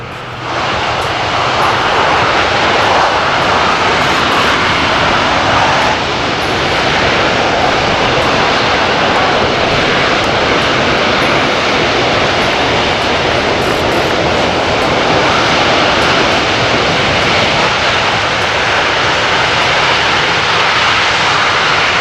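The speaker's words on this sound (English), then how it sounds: "Engines in reverse." C-17 Globemaster III jet engines in reverse thrust at an airshow roar in a loud, steady, broadband rush that holds for the full stretch with no talking.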